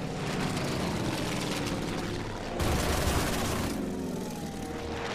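Rapid aircraft strafing gunfire in the Order of Battle war game, a steady dense rattle of shots and engine drone with a louder burst in the middle, then fading slightly.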